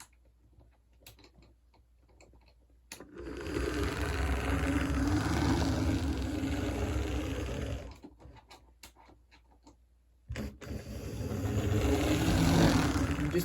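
A small motor hums and rattles steadily as an HO scale model train runs along track, stopping briefly, then starting up again near the end.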